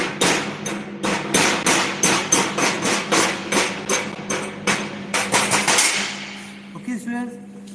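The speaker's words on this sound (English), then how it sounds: "I shall remove the slag with the help of chipping hammer" Chipping hammer knocking slag off a weld bead on metal: a rapid series of loud, sharp, close metallic strikes in an even rhythm, about twenty blows before they stop, followed by a brief faint rattle.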